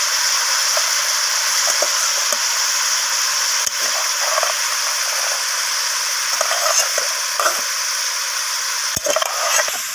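Beans, cauliflower and potato being stirred in a pan, with a steady broadband sizzle running throughout and occasional soft scrapes of the spoon, close and fairly loud, no talking.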